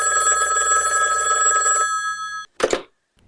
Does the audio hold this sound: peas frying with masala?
no